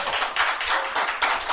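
A concert audience claps together, giving a dense, continuous burst of hand-clapping that sounds close and fairly loud, with no talking over it.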